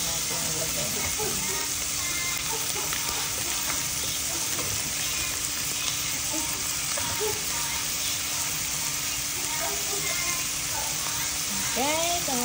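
Bitter melon (ampalaya) frying in a pan with shrimp paste (bagoong), a steady loud sizzle running throughout with scraping stirs, while a person talks over it.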